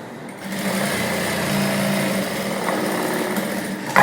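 A sewing machine runs in one steady, close, buzzing stitch along the lining edge of a princess-cut blouse, with a brief change in pitch partway and a faint clunk at the end.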